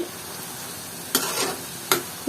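Taro leaves and shrimp cooking in oil over low heat give a faint steady sizzle, broken by two brief scraping stirs, with no talking.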